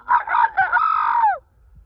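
A molting black rooster on a farm lets out a single clear crow, loud and close, rising and then trailing off over about a second and a half.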